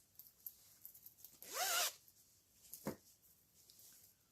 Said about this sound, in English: Another one with a purple zipper